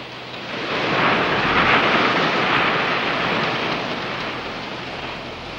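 Heavy rain pours steadily in a tropical rain forest, a dense, loud wash of falling drops that swells and eases slightly, with no voices.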